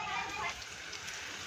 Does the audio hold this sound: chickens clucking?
no